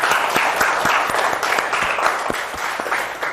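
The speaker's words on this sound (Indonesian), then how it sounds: "Tepuk tangan buat Aiko." A classroom audience claps together in a dense, lively burst of applause, loud and close, tapering slightly toward the end.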